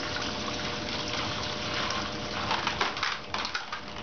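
Dry ice bubbling and churning in water, a steady loud gushing fizz that rolls on continuously, with bursts of bubbling growing choppier toward the end.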